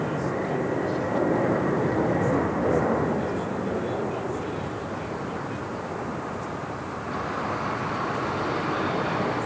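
Concorde supersonic airliner on approach to land at Heathrow, a loud, broad, sustained jet roar that swells and holds steady with a faint rise near the end, no speech over it.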